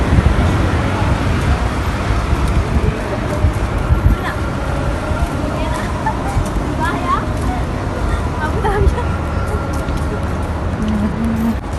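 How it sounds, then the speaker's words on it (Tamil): Road traffic in Dubai makes a continuous, dense roar of passing cars and buses close by, with a rumbling low end throughout. "டிராஃபிக்"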